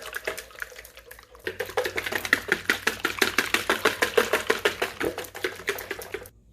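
Two eggs are whisked briskly in a bowl for Nutella chocolate chip cookie dough, giving fast, even, close tapping strokes several times a second that stop abruptly at the end.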